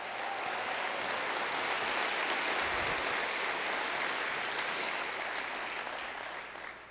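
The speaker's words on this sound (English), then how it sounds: "Let's give our health department a big round of applause." A large audience at a State of the City address applauds the city health department, a steady, dense wash of clapping that holds for several seconds and then begins to fade.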